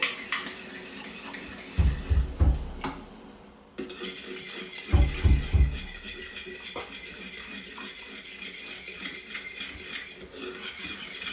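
A spoon scrapes and knocks against a metal pot in short bursts while stirring Jamaican cornmeal porridge, with clinking utensil sounds over a low background hum.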